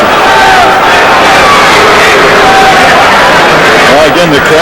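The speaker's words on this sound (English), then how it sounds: "Again, the crowd is growing restless." A restless boxing crowd at a Hopkins–Vanderpool fight fills the arena with a loud, steady roar of babble and shouts that holds throughout.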